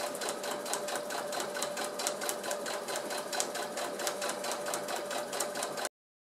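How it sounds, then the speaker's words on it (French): Sewing machine running at a slow steady pace, stitching a fabric circle 1 cm from the edge for a basket, an even close mechanical chatter with regular needle clicks that stops abruptly near the end. "On va doucement et on fait tourner en même temps notre tissu pour bien coudre à 1 cm du bord tout"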